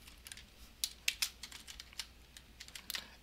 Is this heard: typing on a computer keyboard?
yes